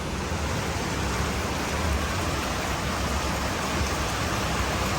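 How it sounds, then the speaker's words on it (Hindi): Heavy rain pours steadily outside, a dense, even hiss that holds at the same loudness from start to finish with no voices over it. "बाहर हो रही है बहुत तेज बारिश।"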